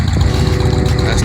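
A car engine catches at startup and settles into a steady, loud rumble, with low harmonic bands running continuously through the short stretch and no voices over it.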